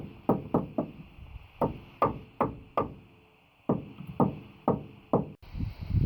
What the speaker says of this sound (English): use our rubber mallet, get things all snugged up.